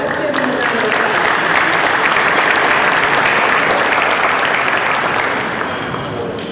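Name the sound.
round of applause at Rotary meeting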